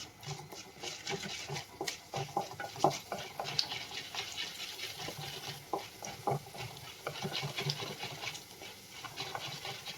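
Soft sizzling and light scraping of a spoon in a pan as lentils fry lightly in oil, faint and close, with small irregular crackles throughout.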